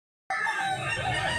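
Out of silence a prized rooster in Mantalungon, Barili, Cebu bursts into a single loud, near crow that rises and holds to the end.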